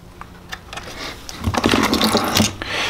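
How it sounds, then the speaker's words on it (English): An 8mm speed wrench tightening lock nuts while mounting a headlight and blinkers on a 2017 Kawasaki Z125 Pro, giving quick ratcheting clicks in short bursts that get denser near the end, close by. "Grab our 8mm speed wrench. Tighten her down."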